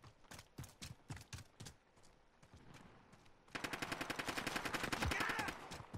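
Gunfire in the Call of Duty Warzone video game: scattered sharp shots at first, then a loud, rapid continuous burst of automatic fire in the second half.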